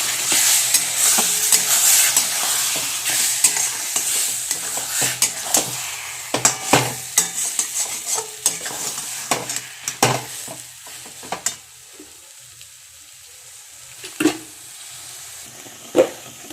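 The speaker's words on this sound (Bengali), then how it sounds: "তো দেখো আমার কিন্তু জল দিয়ে দিয়েছি।" Semolina upma frying in a pan with a little water just added, giving a steady crackling sizzle with repeated sharp scraping clicks as it is stirred, close and fairly loud, no voices.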